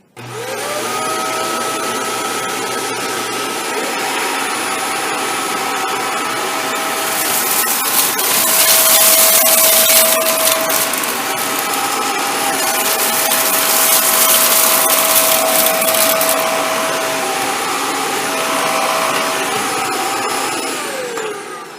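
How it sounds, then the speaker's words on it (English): A Shark APEX cordless vacuum cleaner running on a tile floor, a steady close motor whine with a high tonal hum that swells louder in the middle as it picks up debris, then settles, with no talking. "It's the vacuum working on a tile surface"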